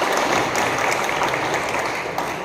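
Students in a hostel gathering clap loudly together, a dense steady wash of applause filling the whole stretch without pause.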